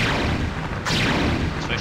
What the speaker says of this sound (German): Zwei Schüsse und die sind alle weg.